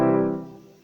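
A single sustained piano chord, the seventh diatonic chord, struck once and left to ring as it slowly fades, heard alone.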